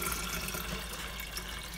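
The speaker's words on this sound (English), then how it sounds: "Fill it up with a little bit of warm water, okay? Just like I'm doing right now." Warm water runs steadily from a tap into a container at home, a faint, constant rushing hiss with no one talking.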